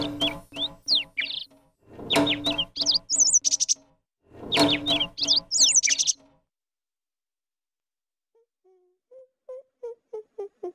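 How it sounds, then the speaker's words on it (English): A tropical bird gives bursts of bright chirping song in three loud, close phrases, then after a silent gap a shorter run of faint, rising notes, with no voices. "Tropical bird."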